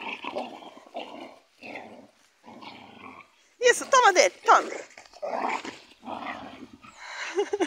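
A small dog growls in playful bursts while tugging at a ball, with a person talking in between. The growls come close and loud in the middle of the stretch.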